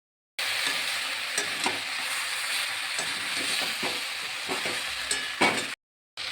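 Vegetables for a Malabar spinach curry fry with spices in a hot pan, giving a steady close sizzle broken by repeated scraping stirs, then a brief silence near the end.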